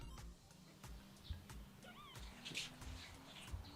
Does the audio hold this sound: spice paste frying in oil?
no